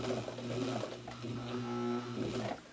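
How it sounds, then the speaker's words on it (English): A sewing machine stitches an eight-point star quilt block, giving a steady, droning motor hum with a brief pause partway through. The machine sounds close and runs alone. "So, I'm going to take a couple of stitches."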